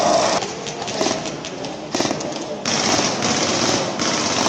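Dense, rapid cracking bursts fire almost continuously, loud and close, with brief dips between volleys.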